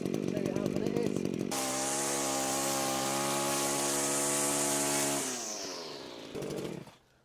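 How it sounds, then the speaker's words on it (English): A Cobra GT260C petrol bent-shaft grass trimmer revs up from a ticking idle to a loud, sustained high-pitched buzz, close by, then winds back down to idle, with a voice heard briefly at the start. "So there you have it, the Cobra bent shaft grass trimmer."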